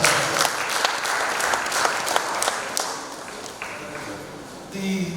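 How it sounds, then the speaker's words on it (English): An audience at a textbook presentation ceremony with a government minister present applauds in a loud, even burst of clapping that tapers slightly near the end. "Please let's give ourselves a round of applause."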